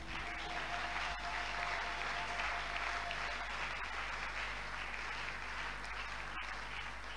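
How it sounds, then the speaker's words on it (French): A church congregation applauds together, a dense and steady wash of clapping that lasts the whole stretch without letting up. "Ça ne serait pas un péché si nous ajoutons les acclamations."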